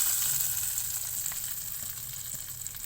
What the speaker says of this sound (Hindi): मीडियम फ्लेम पे इनको फ्राई करेंगे